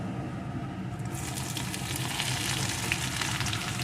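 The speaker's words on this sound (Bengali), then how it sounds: "পেঁয়াজ কুচিটাও একটু ভেজে নেব" Chopped onion fries in oil, a steady close hiss that brightens and intensifies after about a second as the onion hits the pan, continuing evenly with faint stirring.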